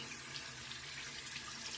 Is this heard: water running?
yes